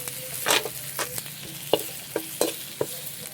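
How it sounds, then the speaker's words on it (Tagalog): Onions sauté with golden garlic in a pan for pork kaldereta, a soft steady sizzle broken by repeated scraping stirs of a utensil, close and without talk. "Isunod na natin ang sibuyas. Gisahin lang din ito hanggang sa maluto."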